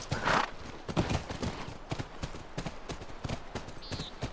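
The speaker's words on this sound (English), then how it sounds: "That's our horse." Horse hooves clip-clop in The Last of Us, with a steady, evenly spaced run of hoofbeats at moderate distance, fairly quiet, and a brief high whinny-like note near the end.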